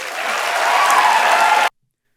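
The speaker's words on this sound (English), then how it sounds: "And he gets an applause and he continues." Audience applause from a played speech recording, a dense even wash of clapping that holds steady for under two seconds and then cuts off abruptly to silence.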